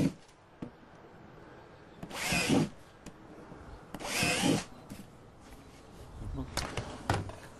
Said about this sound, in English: it's much easier if you just drill the 4 holes in each of the corners.